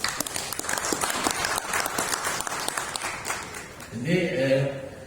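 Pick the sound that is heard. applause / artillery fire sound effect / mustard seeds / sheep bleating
applause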